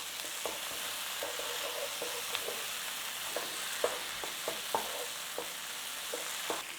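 Chilies and pepper fry in a pan of paneer lababdar base while being stirred, steady sizzling under irregular scraping clicks of a utensil moving through the pan, close and fairly even.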